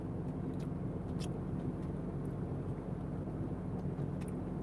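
An oncoming car passes on a road in Ukraine, heard from inside a moving vehicle. A steady, loud low engine and road rumble runs throughout with a few faint higher swishes.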